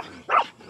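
A dog gives a single short bark at close range during an outdoor camp stay in Cavinti, Laguna, rising briefly over quiet background.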